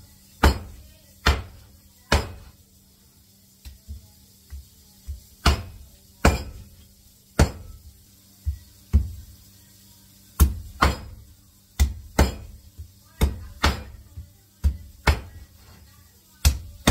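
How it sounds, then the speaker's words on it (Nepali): A knife chops chicken into small pieces for a dry chicken dish, giving sharp, hard thwacks on a board, about two dozen strikes at irregular spacing, close and loud with quiet pauses between. "सानो सानो पिस बनाएर काट्नुपर्छ है"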